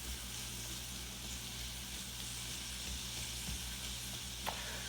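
Onions and bacon sizzle steadily in bacon fat in a pot on a stovetop, a continuous close frying hiss with only a few faint clicks near the end.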